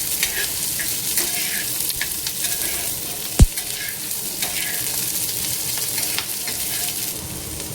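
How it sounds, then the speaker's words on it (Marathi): Onion fries with ginger and garlic in a pan for Kolhapuri misal, a loud, continuous close-up sizzle with scattered crackles and one sharp click midway, no speech. "इथे बघा कांदा चांगला फ्राय होऊ लागलाय"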